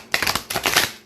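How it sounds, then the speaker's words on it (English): Goddess Tarot cards shuffled by hand in two quick, messy riffling bursts, each a dense papery flutter lasting a few tenths of a second, close and fairly loud with no talking. "Oof, that was a messy shuffle."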